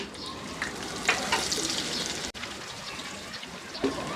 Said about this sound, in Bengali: রসুন কুচি আছে দুই টেবিল চামচ একদম কুচি কুচি করা রসুন ওটা দিয়ে একটু ভেজে নিব